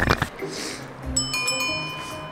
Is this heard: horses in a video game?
no